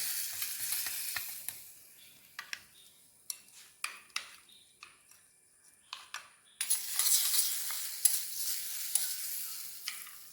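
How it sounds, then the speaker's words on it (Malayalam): A spoon stirs egg curry in a pan, giving repeated light scraping taps over a soft, steady sizzle, close and fairly quiet. "അതിങ്ങനെ ഇളക്കി കൊടുക്കുക സ്പൂൺ എടുത്തിട്ട്"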